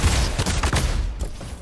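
Shotgun blasts in a first-person shooter game, a quick cluster of sharp, loud bangs fired in rapid succession over less than two seconds.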